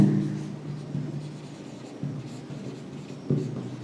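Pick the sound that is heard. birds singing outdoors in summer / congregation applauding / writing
writing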